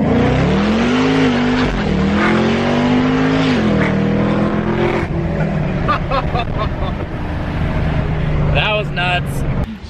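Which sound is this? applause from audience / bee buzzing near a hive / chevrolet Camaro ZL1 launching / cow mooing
chevrolet Camaro ZL1 launching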